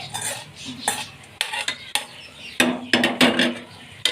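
Fried prawns tipped into a pan of softened tomato masala for prawn biryani, then stirred, giving a run of close scraping and clinking utensil strikes against the pan over a faint sizzle, with no talking.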